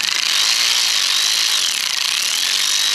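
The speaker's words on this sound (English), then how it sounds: "my tool of choice is electric ratchet" An electric ratchet runs down the rocker arm bolts on an LS engine during a cam swap, giving a loud, close, continuous high-pitched motor whine with a steady buzzing grind for three seconds, with no talk over it.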